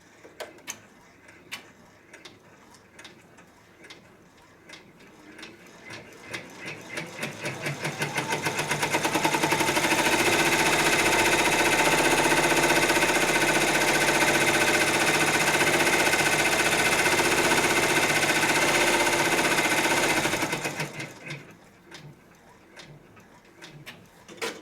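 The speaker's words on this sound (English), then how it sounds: "I'm going to hit embroidery and lock" A multi-needle embroidery machine stitches a table topper with a steady, fast mechanical whir and ticking needle rhythm. It starts up after a few seconds, runs loud and even for about twelve seconds, then stops abruptly, with a few clicks before and after.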